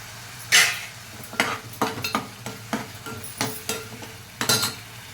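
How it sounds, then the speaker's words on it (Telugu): Small onions tossed into a hot pan for a mutton stew, with a steady sizzle of frying under repeated stirring scrapes and light clinks of a utensil against the pan. "చిన్న ఉల్లిపాయలు అండి ఇవ్వండి ఇలా యాడ్ చేసుకుంటాను"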